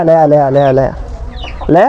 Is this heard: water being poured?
no